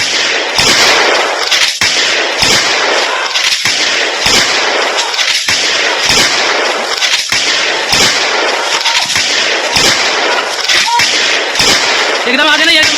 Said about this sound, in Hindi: जहां 29 एनकाउंटर हुए, 5 घंटे गोली चलती रही